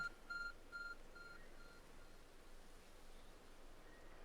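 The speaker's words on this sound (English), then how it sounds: "There's a glowing, beeping object over there." A glowing, beeping object in the video game Pokemon Legends Arceus gives a few short, high, faint beeps during the first second and a half, then only a soft hiss remains.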